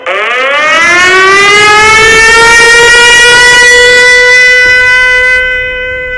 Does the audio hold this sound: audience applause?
no